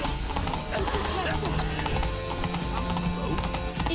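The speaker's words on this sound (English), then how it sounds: "¡Eh, caballo asqueroso!" Horse hooves clip-clop quickly and steadily in The Witcher 3 Blood and Wine, close and prominent, with a brief whinny and game voices shouting over them.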